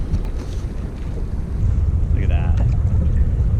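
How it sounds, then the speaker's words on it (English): Strong wind roars and buffets the microphone on a small fishing boat on the St. Clair River, with a low rumbling wash filling the short stretch. "This wind is so terrible."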